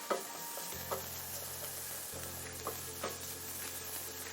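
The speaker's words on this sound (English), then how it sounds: "We want to just sear it a bit before I add the mushrooms." Food being seared in a hot pan while making shakshouka, a steady sizzle with a low hum underneath and a few scattered clicks and scrapes from stirring, close and continuous with no talk.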